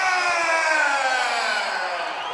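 A fight crowd at an Aries Fight Series event in Tennessee cheers and whoops loudly and steadily as fighter Briven Sullivan is introduced, a dense roar of voices holding throughout.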